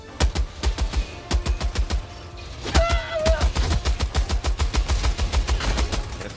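Rapid machine gun bursts in Helldivers 2, loud and close, firing in repeated volleys with a brief pause midway, where a short whining tone and a voice come through before the shooting resumes.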